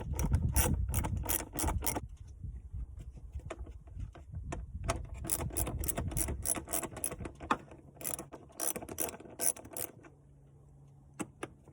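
A hand ratchet clicks in rapid bursts while loosening bolts on the cold air intake of a 2019 Dodge Charger Hellcat, with several close, crisp runs of ratcheting separated by brief pauses.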